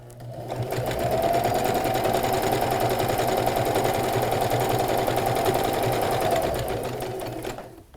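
A sewing machine runs a single continuous burst of stitching through fabric, its rapid even needle clatter and motor whine rising in, holding steady for several seconds, then winding down, close and clear.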